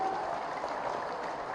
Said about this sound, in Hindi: एक बार जीतन राम मांझी जी के नाम पर तालियों की गड़गड़ाहट से